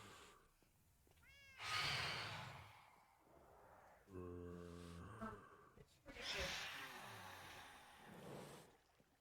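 A cat meows in Minecraft, a few drawn-out meows and softer purring or breathy sounds spread across several seconds, heard fairly close over a quiet background.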